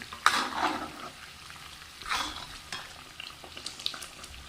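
A homemade coconut hair oil mixture fries in a pan while being stirred, a soft steady sizzle broken by a few louder scraping strokes, close up and with no speech.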